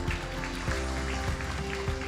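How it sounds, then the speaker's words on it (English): An audience at a forum event claps hands for a group photo, a crowd's steady, even patter of applause with a few louder thumps, under a low background hum. "Everyone, please clap your hands."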